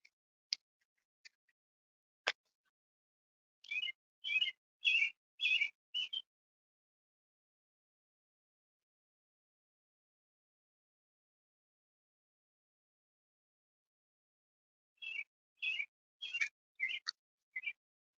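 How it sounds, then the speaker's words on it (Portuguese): Small birds call on a spring evening beside a river, with a few isolated chirps early on, then two bursts of rapid repeated notes separated by a long quiet stretch; the calls are fairly distant and faint. "Final de tarde de primavera, os passarinhos cantando."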